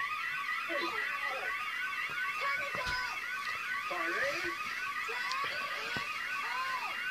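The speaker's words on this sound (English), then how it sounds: "There's an alarm!" A warbling electronic alarm whoops repeatedly at a steady pace, with muffled voices and clunks underneath.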